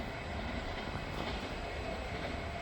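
Hazur Sahib Nanded Superfast Express rushing past at about 110 km/h, a loud, steady roar of rail noise and wheel rumble filling the whole stretch at close range.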